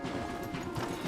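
Horse hooves clip-clopping steadily on a forest path as riders dismount in Red Dead Redemption 2, a continuous close trotting patter with faint mechanical rustle and no talk.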